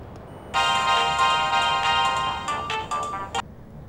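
A mobile phone ringtone plays loud and steady for about three seconds, a bright electronic melody that stops abruptly, with no voices over it.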